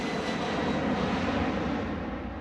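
The engines of an Airbus A330 Phénix tanker aircraft give a steady, loud, broadband jet roar with a faint high whine running through it, alone and without voices.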